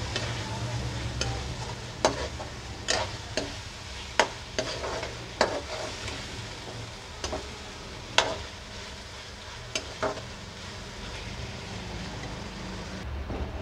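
Tomatoes and keema being stirred in a frying pan, a steady sizzle under repeated scraping clacks of a spoon against the pan, fairly quiet and close, with no talking.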